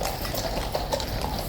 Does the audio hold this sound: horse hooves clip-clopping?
yes